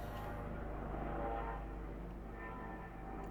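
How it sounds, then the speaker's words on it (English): An airplane flies overhead, a low, steady rumble holding at a moderate distance for a few seconds with a slight swell in the middle and no voices. "That's a loud plane."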